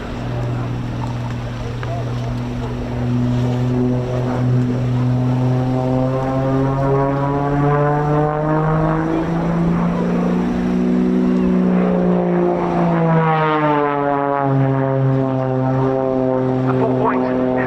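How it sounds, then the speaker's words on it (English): Extra 330 aerobatic propeller plane at the RAF Cosford air show, its engine note rising and falling in long pitch sweeps while it holds a nose-high hover, loud and continuous, with a commentator talking over it. "Melanie brings the extra 330 into effectively a hover, very nose high"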